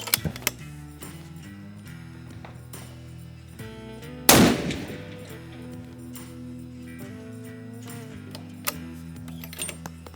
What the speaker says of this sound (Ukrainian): Давайте ще постріл